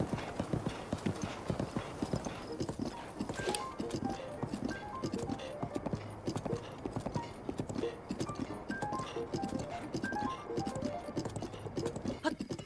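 Horse hooves galloping in Zelda Breath of the Wild, a fast steady clip-clop rhythm with light game music notes above and faint talk underneath.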